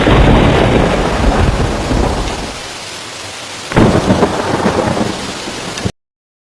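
A dust storm in a Rajasthan city brings lightning and strong winds of 50 to 70 km per hour. A loud, close, broadband roar of wind and blowing debris surges, eases, then surges again before cutting off, with no talk.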